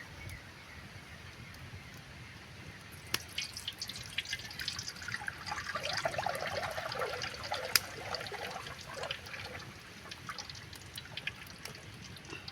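Peanut oil poured into a frying pan for village-style bajji, a soft trickling, splashing pour that swells in the middle and fades, outdoors with no talk.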